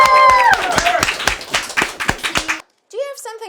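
A student audience claps and cheers for a classmate who served two tours in Iraq, with a burst of sharp, irregular hand claps that thins out and stops, followed by a short silence and then a voice speaking.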